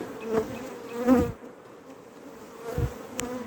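Honey bees buzz steadily up close during a hive cut-out removal, with a few louder swells of droning as insects pass near, no voices.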